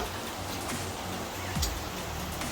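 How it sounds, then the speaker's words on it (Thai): Steady rain pours down during a long, flooding downpour, a continuous hiss of patter with a brief louder knock partway through. "ฝนตกตั้งแต่กี่โมงแล้วเนี่ยเนาะ"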